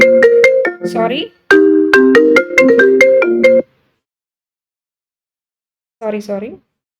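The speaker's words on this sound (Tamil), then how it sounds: "ஃபோன் சைலண்டில் போட மறந்துட்டா" A mobile phone plays a loud melodic ringtone in bursts of tones, breaks off, then chimes briefly once more after a pause.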